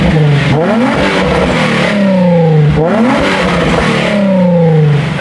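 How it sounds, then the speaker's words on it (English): Nissan 350Z engine revved several times in a row, each rev rising sharply then falling back, loud and close with steady idle between, no talking. "Let's give it a few revs."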